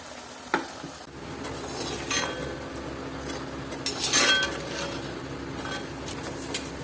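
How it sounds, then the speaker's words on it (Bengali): Pitha rice cakes frying in oil, a moderate sizzle with occasional clinks of a utensil against the pan and a few sharper scraping bursts, no voices. "সব পিঠাগুলো ভেজে নেব।"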